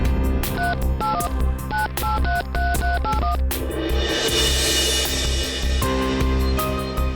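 Telephone keypad dialing in a Hindi TV drama scene: a quick run of beeping touch-tones, one after another, followed by a rising electronic ring sound over a low background score.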